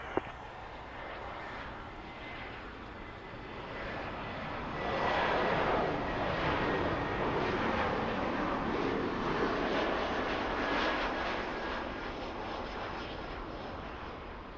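An Air Canada Rouge airliner takes off from runway 05 at Toronto Pearson, its engine roar swelling midway, holding strong, then easing slightly as it climbs away, with no voices.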